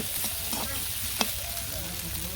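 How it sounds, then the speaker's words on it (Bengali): Onions frying in a pan for egg bhuna in a village kitchen, a steady hissing sizzle with a faint clink of stirring partway through. "তো পেঁয়াজগুলো ভেজে নেই"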